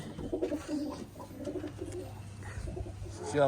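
Soft, low coos from pigeons perched on a loft umbrella repeat in a gentle rhythm over quiet background noise, fairly close.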